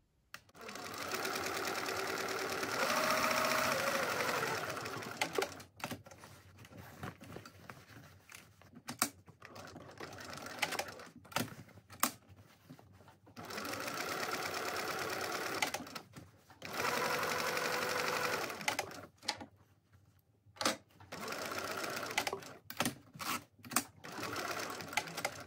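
A sewing machine stitches a handbag pocket in bursts of fast, even mechanical chatter, close and fairly loud, broken by short pauses and a few clicks between runs.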